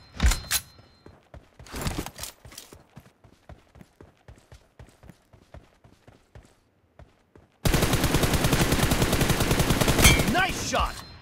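Gunfire in a shooter video game: clusters of single shots and short bursts at an uneven pace, then a long sustained burst of rapid automatic fire, loud and close.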